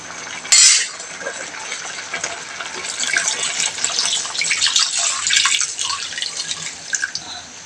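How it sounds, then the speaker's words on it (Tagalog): Broth poured into a pot of sinampalukang manok, sautéed chicken in the pot, giving a steady splashing, trickling pour that runs for several seconds with a brief sharp clink near the start. "Lagyan na natin siya ng sabaw."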